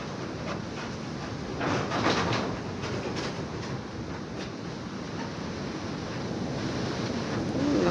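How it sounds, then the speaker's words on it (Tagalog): Strong typhoon wind roars steadily around a house, a dense constant rush with slight gusting swells, loud and close, with no talking. "lakas ng hangin, Lord."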